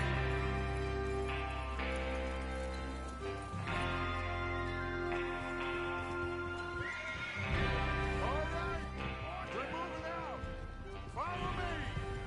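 Horses whinny and neigh repeatedly over a busy outlaw camp in Red Dead Redemption 2, with several loud rising-falling calls near the listener, hoof clatter and game music droning underneath.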